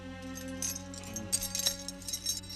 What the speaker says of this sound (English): Lewis, do you know what all those keys are for